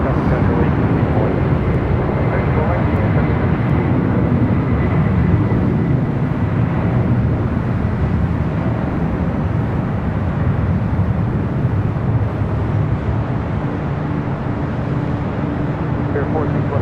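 Boeing 747 jet airliner rolling down a runway at LAX for takeoff, a broad roaring rumble that holds steady and loud throughout, with radio-style talk running over it.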